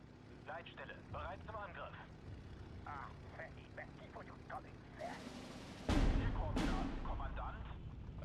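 In the WWII strategy game Steel Division 2, a Ju-87 dive bomber strafes during artillery fire. Two sharp, loud blasts break out near the end, and the roar lingers after each. Voices talk over quieter battlefield noise before them.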